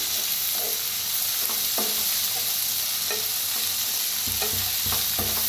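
Onions and spring onion greens fry with asafoetida in a pan for a dry Maharashtrian bhaji, a loud constant sizzle punctuated by a rhythmic series of spatula scrapes and taps, close up, with no talking.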